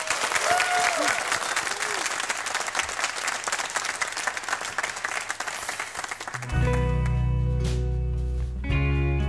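A television studio audience at the Swedish show BingoLotto gives loud, sustained applause for a singer, with cheering mixed in, until her song's music begins and the clapping gives way.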